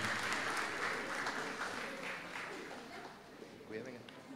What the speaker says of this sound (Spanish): Fuerte el aplauso también para la señora